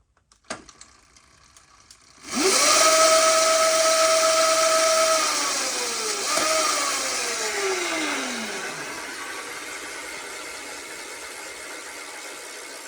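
An electric dirt bike motor under rebuild spins up with a loud rising whine, holds a steady mechanical hum for a few seconds, winds down, then briefly revs again before fading to a lingering whir.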